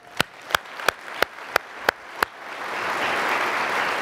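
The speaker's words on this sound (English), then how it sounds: "please give the Health Transformers another round of applause" Applause from a conference audience: a single person claps seven times in a slow, even rhythm, and the hall then swells into continuous crowd clapping that keeps building to the end.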